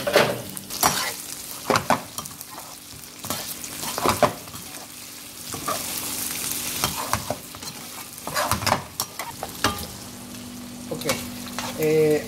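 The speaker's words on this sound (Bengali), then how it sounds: "আমরা এগুলোকে সবগুলো ইনগ্রিডিয়েন্টকে নিবু নিবু চুলায় ভাজবো" Octopus pieces with potatoes and other ingredients frying together on a low flame for an octopus pasta sauce, with a steady soft sizzle broken by repeated stirring and scraping strokes of a utensil in the pan.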